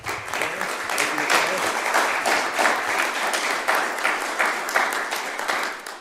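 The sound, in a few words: applause at mayor's news conference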